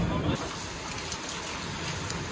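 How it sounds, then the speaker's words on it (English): Rain keeps up a steady hiss at a Mauritius beach resort, heard from indoors as a continuous wash of sound. A voice briefly overlaps at the very start. "All night actually it has been raining."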